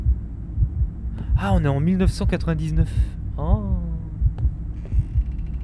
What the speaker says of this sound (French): Il y a un battement de cœur au rythme des vibrations, là.